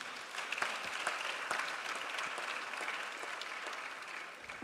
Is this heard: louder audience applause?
yes